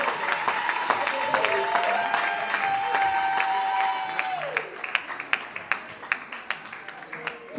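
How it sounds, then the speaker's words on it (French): Applause from an evening audience runs beneath a sustained musical tone for about four seconds, then thins to scattered, separate claps that fade out. "Est-ce qu'on peut les applaudir bien fort?"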